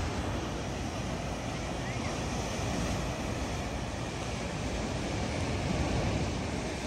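Ocean waves at Manly Beach in Sydney: a steady, broad wash of surf and wind noise runs without a break, with no clearly separate breakers and no talking.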